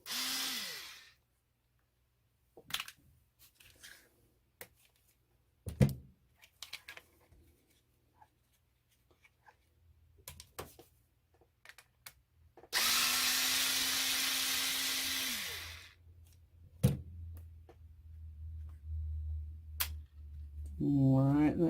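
Four screws backed out of the ESC mount on an HBX Protector RC vehicle with a power driver, heard as short separate bursts and one long steady whir, with scattered clicks and handling noises in between.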